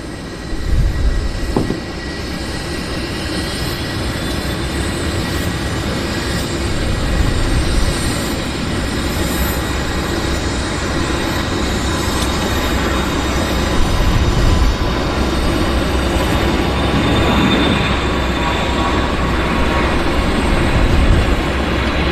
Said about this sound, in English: He's taxiing on to active. I guess he's been cleared for departure.